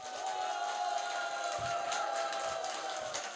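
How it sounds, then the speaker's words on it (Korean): A crowd at a political party's campaign event in Gangseo District greets the candidate with a steady, dense wash of applause and cheering that holds at an even level throughout, with a faint ringing tone underneath. "다시 한번 박수로 여러분 힘차게 응원해 주시기 바랍니다."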